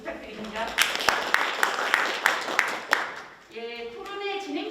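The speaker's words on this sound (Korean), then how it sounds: "함께 박수 부탁드립니다" Audience applause at a Busan forum on platform labour, moderate and sustained with distinct claps standing out, then fading as a voice begins speaking over it.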